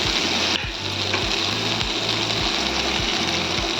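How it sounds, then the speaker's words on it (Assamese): Curry leaves, onion and chili fry in hot oil with a loud, steady crackling sizzle, close by, along with a low rhythmic hum pulsing underneath and no talking. "এইখিনি অকণমান ভালদৰে মই ভাজি লওঁ"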